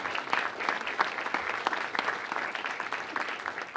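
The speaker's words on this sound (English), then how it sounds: "Can we give Alejandro a round of applause" A town hall crowd in Hudson, New Hampshire claps steadily, a moderately distant burst of applause with individual claps audible, continuing without pause.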